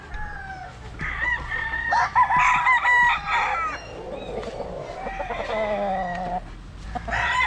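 Young gamecock stags crow in a farmyard. Several overlapping, strained cock-a-doodle-doo calls come close together, with softer clucks and distant crowing between them.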